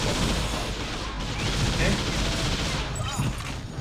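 Continuous gunfire rattles in the video game TimeSplitters Future Perfect, a dense, noisy barrage of shots with players talking over it.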